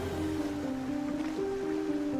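Waves wash against Salerno beach as soldiers come ashore in boats during a World War II landing, a continuous loud surf roar mixed with low sustained tones, no voices heard.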